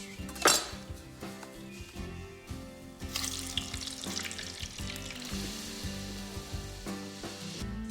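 Potato chips for fish and chips fry in hot oil, a steady soft sizzle with clinks of pans and utensils, fairly faint, with a sharper clatter near the start.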